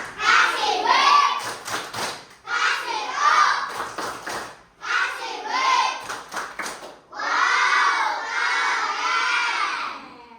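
A group of schoolchildren in a classroom does a rhythmic clapping cheer, shouting together in four loud bursts separated by short pauses, with claps and thumps mixed into the chanting.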